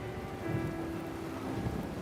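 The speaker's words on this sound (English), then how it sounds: "A heavy rain blankets the city" Heavy rain pours steadily over a city, a dense continuous hiss with low rumbling underneath, constant and fairly close with no voices.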